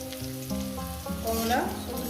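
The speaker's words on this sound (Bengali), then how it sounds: "তাই করলা ভাজা আর ঝিঙে দিয়ে ডাল করছি" Bitter gourd slices frying in hot oil in a pan, a steady close sizzle with stirring noises rising into a louder crackle midway, no voices.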